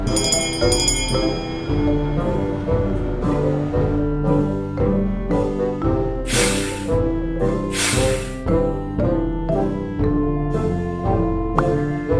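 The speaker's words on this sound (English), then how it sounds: "What does the bell do?" A toy bell in a Peppa Pig cartoon, tapped several times, its bright ringing tones mixed into busy background music with a couple of short hissing bursts.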